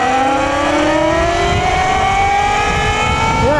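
A Talaria MX5 electric dirt bike accelerating hard in hyper performance mode, its motor whine climbing steadily in pitch over rushing wind noise, loud and close throughout with no speech.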